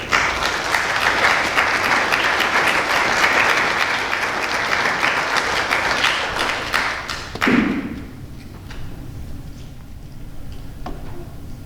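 An audience applauds to welcome Dr. Corey Miller at a debate on Christianity, sustained loud clapping for about seven seconds that cuts off sharply with a thump, leaving quiet room noise.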